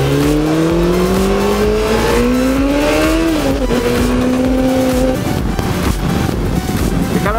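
Loud, steady engine drone of a 1996 Honda CBR 600 F motorcycle cruising at speed on a motorway, with pitch rising slightly as it accelerates and strong wind rush throughout.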